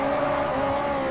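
In the racing game Forza Motorsport 4, a car power slides and its tires let out a steady, sustained squeal over engine noise, a brief, loud burst without talk.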